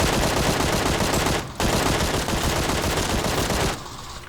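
Rapid automatic gunfire from a gun without a grip in a video game, a dense loud burst of shots with a short gap, then more firing before it stops.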